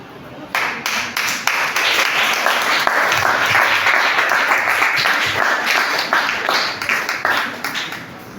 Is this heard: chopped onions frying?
no